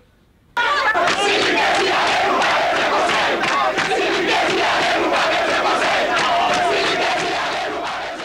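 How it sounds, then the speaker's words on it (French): A furious crowd storming the airport in Port-au-Prince roars suddenly into a loud, sustained wall of shouting and battle cries. It stays dense and close before easing slightly at the end. "une foule furieuse envahit l'aéroport"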